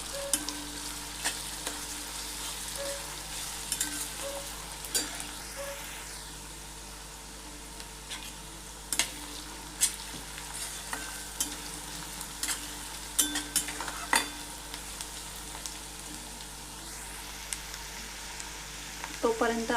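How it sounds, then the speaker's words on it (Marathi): Onion sautéing in a pan until browned for Punjabi chole masala, a steady low sizzle with scattered sharp clicks of a spoon stirring, fairly faint and continuous, with no talking. "कांदा छान ब्राऊन रंग होईपर्यंत परतून घ्यायचा आहे"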